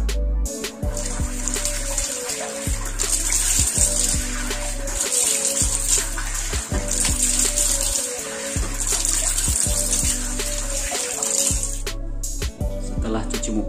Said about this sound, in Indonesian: kawan-kawan silakan cuci muka